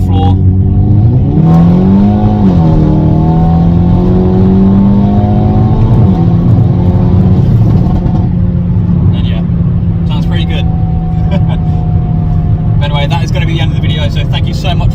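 A Hyundai i30N with a DCT gearbox, tuned to stage 2 and in N mode, accelerates hard at full throttle: a loud rising engine note climbs, steps through a gearshift, then drones steadily, heard from inside the car.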